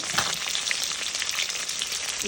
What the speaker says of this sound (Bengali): ভাজা কাতলা মাছ হচ্ছে